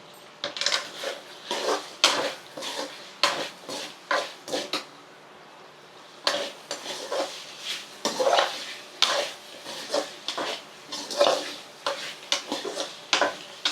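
Ginger paste and curry leaves frying in a pan, heard as repeated rhythmic metal scraping and clinking of a spoon against the pan, close and fairly loud, with a soft sizzle beneath and no talk.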